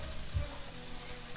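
A soft, steady sizzle of king oyster mushroom pieces seasoned with onion powder frying in a pan, faint and even with a low thump near the start and no voices.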